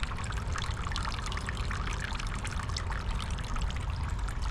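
Water pours steadily from a small statue fountain in a garden on the Azalea Trail in Tyler, Texas, a constant close splashing trickle with no talking.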